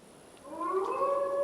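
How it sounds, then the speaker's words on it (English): A wolf howls in Assassin's Creed Valhalla, a single rising, wavering call that swells and holds for about a second over a quiet background. "Oh, that is not the sound of a dog, Ira. That is a wolf."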